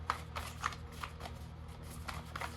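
A deck of tarot cards is shuffled by hand, giving a series of quick, close riffling and flicking bursts at an irregular pace with soft handling noise in between and no talking.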